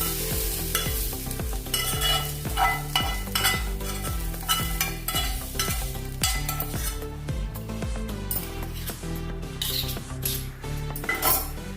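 Cooked vegetable masala being mixed into a soaked semolina batter, a steady, close run of wet stirring and squelching with rhythmic spoon strokes against the bowl, loud and continuous with no talking.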